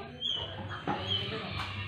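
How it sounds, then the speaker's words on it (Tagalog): A dog near a house whimpers and yips softly in short, faint bursts against background room noise and murmuring. "Ayan po, isa naming aso"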